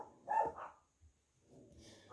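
A few dog barks ring out close by in a quiet room, a sharp pair at the start followed by a softer bark a moment later, with no one talking over them.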